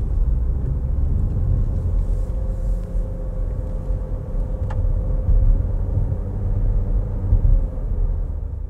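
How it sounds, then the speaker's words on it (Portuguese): Steady low road and tyre rumble inside a moving 2021 Renault Duster with CVT, a constant broadband hum with faint engine drone and no talk. "ruído de rodagem dentro de um nível bom também, não é nenhuma maravilha, mas também não é nada que seja incômodo"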